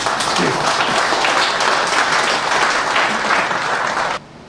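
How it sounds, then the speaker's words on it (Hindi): Audience at a Hindi comic poetry gathering (kavi sammelan) claps vigorously and continuously, a thick close wash of many hands that cuts off abruptly near the end. "एक बार ताली ढंग से बजाओ"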